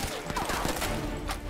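Enemy gunfire in Crysis 3, a quick flurry of shots crackling at mid-distance in a short busy burst.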